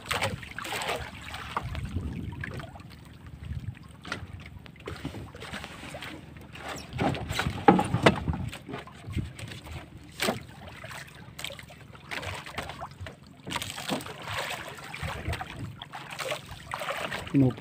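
A small fishing boat out at sea during hand line fishing for snapper and trevally, with steady wind and water wash, engine rumble and occasional knocks on the hull running throughout at moderate level.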